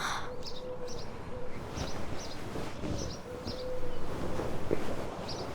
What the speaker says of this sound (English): I can hear birds. Waking up in the morning, yeah, definitely some birdsness there.